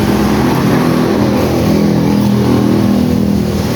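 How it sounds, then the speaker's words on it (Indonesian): A car engine that is hard to start sputters and revs loudly and close by, a rough continuous mechanical roar with a steady low hum throughout. "kita sambil menunggu batuk-batuknya mesinnya"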